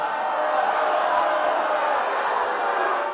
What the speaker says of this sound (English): was a crowd of booing at Monday night's town hall